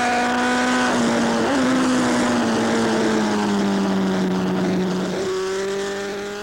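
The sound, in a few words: Jet Ranger helicopter flying above race track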